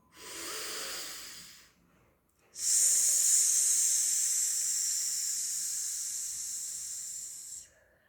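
Deep, slow breathing close to the mic during a calm meditation with hands on the chest: a short airy inhale, a brief pause, then a long, steady, hissing exhale lasting about five seconds, with no talking.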